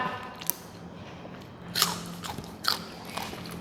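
Someone eating grilled catfish larb with sticky rice, quiet bites and a few crisp crunches and wet chewing sounds spaced out over a soft background, no talk.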